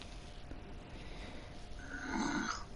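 A man snoring quietly in a room, one soft, drawn-out rasping breath that swells near the end over faint background hiss, with no talk.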